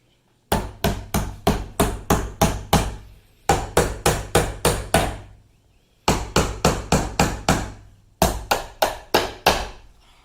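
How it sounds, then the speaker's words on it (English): Sharp hammer blows drive nails into a wooden box in quick bursts of about seven or eight, with short pauses between each group, loud and close. "you're gonna need a hammer and some nails"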